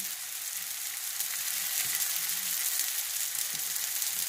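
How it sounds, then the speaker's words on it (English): Steady sizzling of sausage frying in a pan, a constant hiss with a few faint clinks, no voices. "You can hear my sausage cooking."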